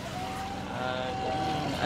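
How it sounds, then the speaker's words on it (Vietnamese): Longtail boat engine running steadily on the waterways of Ngọc Hiển, Cà Mau, a constant broadband drone with a faint whining tone, heard at moderate distance with wind noise and no speech. "Ở đây không nghe tiếng xe mà toàn là nghe tiếng máy của chiếc vỏ lãi chạy không à."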